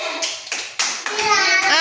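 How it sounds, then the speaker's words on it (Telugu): Children clap together for a classmate named Bindu during a classroom shopping game, giving a short, bright patter of applause mixed with a voice. "క్లాప్స్ కొట్టండి బిందుకి"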